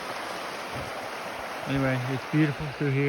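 Cove Creek flowing along a hiking trail, a steady rushing burble of water close by, continuing under a voice that begins partway through.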